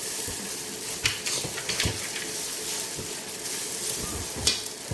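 Eggs and fried rice sizzle in a pan with a steady frying hiss, broken by a few scraping stirs of a utensil against the pan, close and fairly loud.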